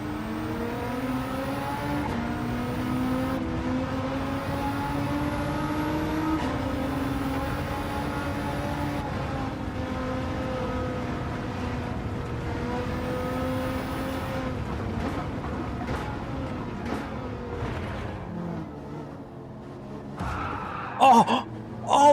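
A Nissan GT-R engine in a racing video game drones steadily for most of the run, its pitch shifting with throttle, before fading near the end under a few sharp bursts.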